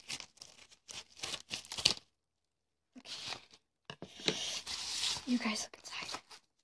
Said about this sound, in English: Oh, I cut the bag.